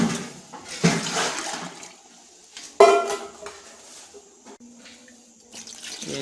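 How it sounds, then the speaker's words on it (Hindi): Water from a full bucket splashes into a large cooking pot in bursts as chicken pulao is prepared, with separate pours and sloshing, a few softer gurgles between them and no talking. "अभी हम 3 अदद इसमें पानी डालेंगे, ये बाल्टी भर के।"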